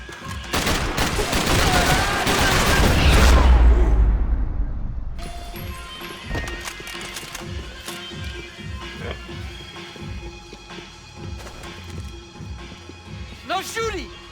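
Heavy gunfire in Max Payne 3 erupts in a loud, dense burst of rapid shots for about five seconds, then drops to scattered quieter pops and impacts under background game ambience.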